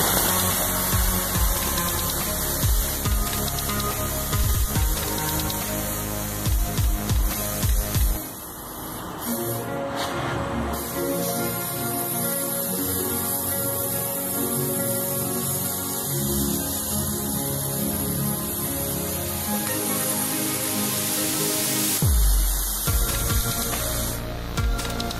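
Compressed air rushing out of a sandblaster tank as it is emptied through its valve, a loud steady hiss that holds for most of the span with a few brief dips and surges.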